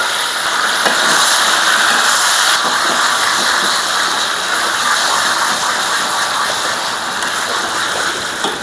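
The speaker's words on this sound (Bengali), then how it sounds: "রসুনটা আমার লাল লাল করে ভাজা হয়ে গেছে, এখন দিয়ে দেবো কচুর শাক" Taro leaves tipped into hot oil with garlic fried until reddish-brown, giving a loud, steady, close-up sizzle and hiss that runs without a break and with no talking.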